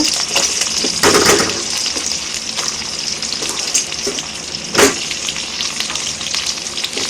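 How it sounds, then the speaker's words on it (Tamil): Onion, garlic and tomato sizzle and fry together in a pan for country chicken curry, a loud close crackle with occasional stirring scrapes and spatter bursts throughout. "வெங்காயம் பூண்டு தக்காளி எல்லாம் ஒன்றா போட்டு வதக்குங்க"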